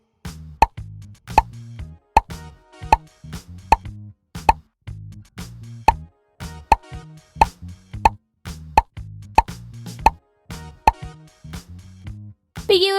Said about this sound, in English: Tap on the bubbles.